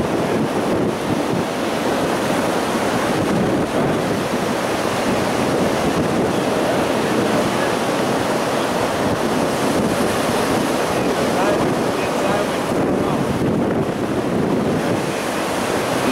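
Ocean surf rolls and breaks steadily along a beach where a teenager is kayaking in rough water with rip currents, a loud continuous wash of waves mixed with heavy wind buffeting the microphone, with no voices.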